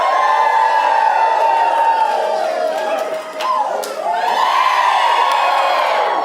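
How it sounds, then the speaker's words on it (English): An improv show audience cheers loudly, a dense mix of shouts, whoops and children's yells, dipping briefly mid-way before surging again into a sustained roar. "So just give me a cheer."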